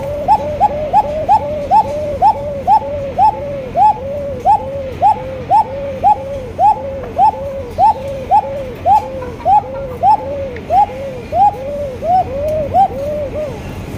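Pigeons coo in a steady, rhythmic series of about twenty evenly spaced, resonant calls, loud and close, over a low background hum, with no voices.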